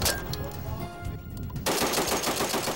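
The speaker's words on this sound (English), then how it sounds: "the Raptor can now mount and fire the powerful 50 caliber M2 long barrel machine gun" A .50 caliber M2 long-barrel machine gun mounted on the Raptor fires in a rapid, continuous burst of loud, close reports that cuts off briefly near the midpoint before resuming even harder.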